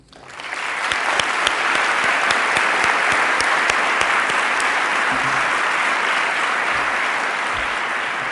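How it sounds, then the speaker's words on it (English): A large audience at a commemoration of a downed Ukrainian flight gives sustained, dense applause that swells quickly and holds steady, loud and close. "I think it's again worth a round of applause."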